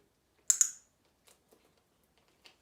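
Dog training clicker giving a sharp double click, close and crisp, followed by a few faint soft taps and rustles in an otherwise quiet room.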